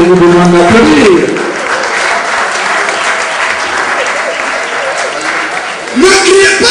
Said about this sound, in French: Obrège Bachomba, que je vous demande d'applaudir